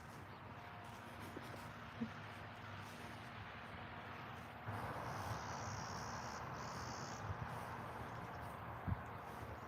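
Insects chirp steadily outdoors in a faint, continuous buzzing wash, with a higher trilling layer joining partway through and a couple of soft distant knocks; no speech.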